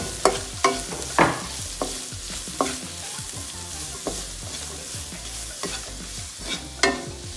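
Ginger, garlic and green chillies frying in a pan, an ongoing sizzle punctuated by repeated spoon scrapes and clanks against the pan at an irregular pace, close up.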